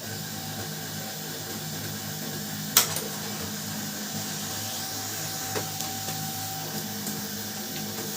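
An inkjet-style printer pulls in a sheet and prints, a steady whirring mechanical drone with a sharp click near the start and a few softer clicks later, close and continuous with no talking.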